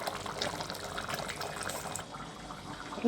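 A pot of dry fish curry with vegetables bubbles at a rolling boil, giving a soft, steady simmering burble that stays fairly quiet throughout.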